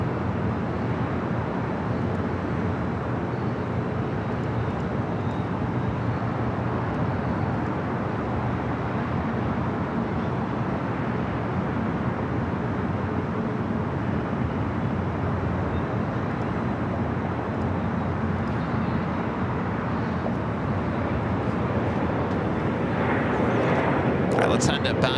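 WestJet airliner bound for Winnipeg beginning its takeoff roll on runway 24 left at LAX, heard as a loud, sustained engine roar that holds steady and swells slightly near the end.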